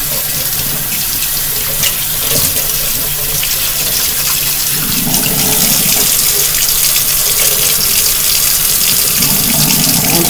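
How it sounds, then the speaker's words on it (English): A kitchen tap runs steadily into a sink while dishes are rinsed: a loud, continuous gushing stream of water with shifting splashes as items pass under it. "Give that another rinse."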